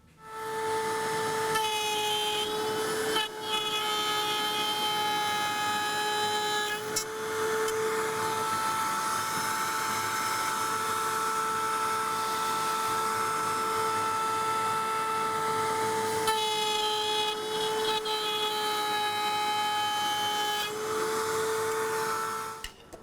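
A router table cuts dado grooves in wood for a jewelry box, its motor whining loud at a steady high pitch through two long passes, with brief dips between them.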